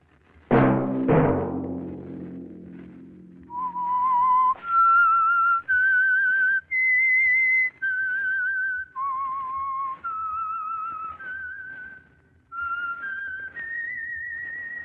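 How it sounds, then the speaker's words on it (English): A low two-note chime opens, then a lone whistler carries a slow tune in long held notes with short pauses between them, clear and close, as a radio program theme. "Let that whistle be your signal for the Signal Oil program"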